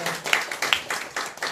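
An audience at a political seminar claps, with a patter of separate hand claps rising in quick bursts, moderately close.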